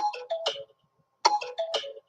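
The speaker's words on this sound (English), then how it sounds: "There goes my notifications from YouTube." YouTube notification chime on a computer, two quick bursts of bright electronic tones about a second apart, clear and close with no talking.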